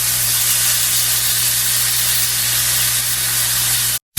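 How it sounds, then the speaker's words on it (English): Chicken pieces searing in a skillet for a honey garlic glaze, giving a loud, dense, continuous hiss at close range that cuts off briefly near the end. "After they get seared on that side, you want to go in and turn them over."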